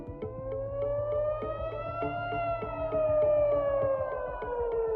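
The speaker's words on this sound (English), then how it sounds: "The sound of sirens pierced the night sky" An air raid siren wails at night during an Iranian attack on Israel, rising and falling slowly, loud and sustained, with a steady rhythmic mechanical pulsing underneath.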